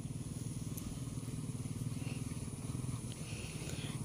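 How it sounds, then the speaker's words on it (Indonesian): A big motorcycle rides over a damaged village road patched with gravel. Its engine gives a steady, fairly faint rumble throughout, with a rapid throbbing pulse and some faint crunching over the stones. "Bagaimana reaksi motor besar itu melewati? Ya, sangat kenceng sekali."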